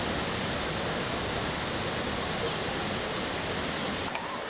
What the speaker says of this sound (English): look at that waterfall though